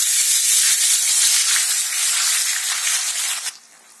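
Onion paste fries in a pan after cumin has browned in oil, giving a steady loud hiss for about three and a half seconds before it drops sharply to a quieter sizzle, with no one speaking.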